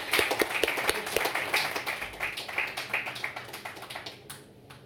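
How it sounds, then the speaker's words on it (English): A small group claps at a press conference during the European Development Days, marking an agreement with a loose, scattered run of sharp, fairly close claps that thins out toward the end. "A little clap might work"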